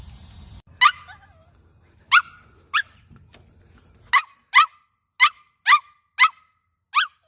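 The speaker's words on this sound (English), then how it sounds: "And Tully is a big Laren dog, and he's the alarm." A big dog at a free campsite west of Townsville, Queensland, barks repeatedly and loudly, close by, in a steady series of sharp barks after a brief engine-like rumble at the start.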